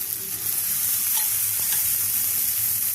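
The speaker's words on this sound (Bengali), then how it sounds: "এই কাবলি চানাটা মশলার মধ্যে দিয়ে ভালো করে নাড়াচাড়া করে দেবো।" Boiled chickpeas are stirred into frying masala in a pan over low flame, making a loud continuous sizzle with soft scraping of the spoon, steady and close throughout.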